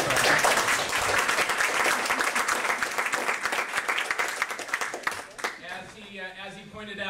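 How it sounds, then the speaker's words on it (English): Dense applause from a crowd fills most of the clip, then thins out near the end as scattered claps fade under a voice. "I think he deserves a round of applause for that."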